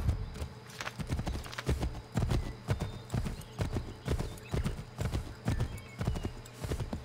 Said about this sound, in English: Thank you for calling my horse